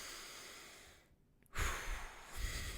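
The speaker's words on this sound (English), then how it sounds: "Take a deep breath with me right now." A person takes a single deep breath: a soft exhale fades into a short pause, then a strong, close inhale-like rush of air follows and carries on with breathy noise, and no words are spoken.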